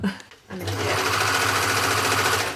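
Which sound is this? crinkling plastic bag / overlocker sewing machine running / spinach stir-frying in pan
overlocker sewing machine running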